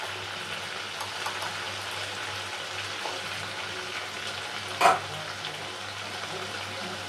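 Ground spices, turmeric among them, sizzle steadily in a pan of oil for a prawn and pointed gourd malai curry, with a low continuous frying hiss and a brief louder scrape of stirring near the end.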